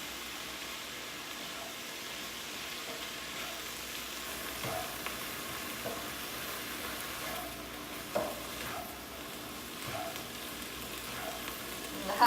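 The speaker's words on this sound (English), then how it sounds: "We're just gonna stir and put the top back on" Mushrooms fry quietly in a pan for a holiday breakfast scramble, with a soft steady sizzle and occasional faint scrapes and clinks of stirring.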